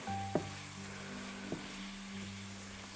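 Mince sizzling steadily in a pan for a lasagna's meat layer, a low continuous fry with a couple of faint utensil knocks, no talking.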